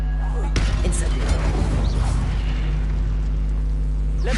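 A fiery Incendio spell erupts in the video game Hogwarts Legacy, a loud booming blast that rumbles and crackles steadily for several seconds with no pause.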